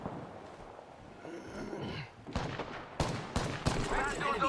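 Enemy gunfire in a battle royale shooter, sharp cracking shots and short bursts that grow denser and louder toward the end, mixed with game effects and a voice speaking underneath.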